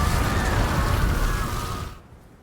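A fiery Incendio spell blast in Hogwarts Legacy roars as a loud, dense whoosh of flame and crackle for about two seconds, then cuts off abruptly into quiet.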